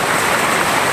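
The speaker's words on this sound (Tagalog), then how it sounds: "lakas na ulan dito mga idol" Heavy rain pours steadily and loudly, a dense continuous wash of noise on an unfinished roof with no pauses or voices.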